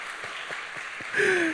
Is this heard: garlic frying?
no